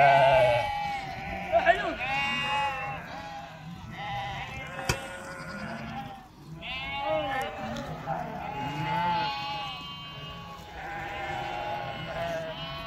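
A flock of sheep and lambs bleats repeatedly at close range, overlapping high and low calls that run almost continuously, with no one talking.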